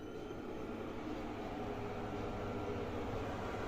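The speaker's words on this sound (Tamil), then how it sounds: "இந்த எக்ஸாஸ்ட் ஃபேன் வந்து ஹீட்டை ரெடியூஸ் பண்ணதுக்கப்புறம் அதுவே ஆஃப் ஆயிரும்." The exhaust fan of an induction stove keeps running after the stove is switched off, giving a steady, even broadband whir with a low hum. It holds constant throughout and is heard alone.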